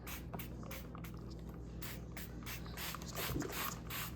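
Cleaner is sprayed inside a MacBook Pro case in a series of short, quiet hissing bursts, close up and faint.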